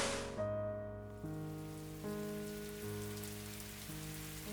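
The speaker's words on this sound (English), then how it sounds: "The sound of fallen rain." Rain falls steadily in the video game Fallstreak, a soft continuous patter under sustained musical tones, with no talking.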